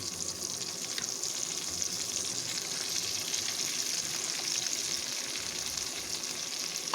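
Dried fish frying in a pan with green chillies and chopped onions, a steady, dense sizzle holding evenly throughout without any talk.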